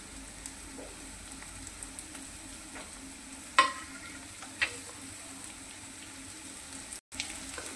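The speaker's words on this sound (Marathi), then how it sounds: "यामध्ये आपण कट केलेला टोमॅटो टाकून घेऊया" Chopped tomato goes into softened onion frying in a pan for egg bhurji, a low steady sizzle with a few sharper clicks and scrapes, quiet and close, no talking.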